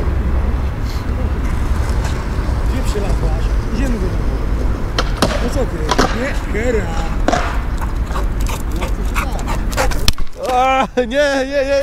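A pitbull at a skatepark whimpers, pants and gives short barks amid constant wind or traffic rumble, with people talking nearby; the dog's sounds grow clearer and closer near the end.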